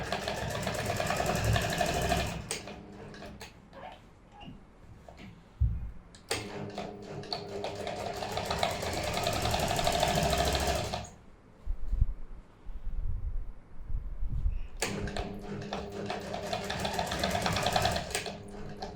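Sewing machine stitching a shirt, running in three bursts of rapid steady clatter separated by quiet pauses with faint handling noises, close and fairly soft.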